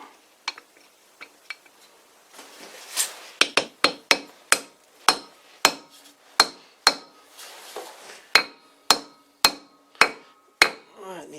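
Sharp metallic hammer blows drive a plug into a warm vintage round leather belt pulley, starting with a few light taps and then settling into a steady series of loud, evenly spaced strikes, close up and without talk.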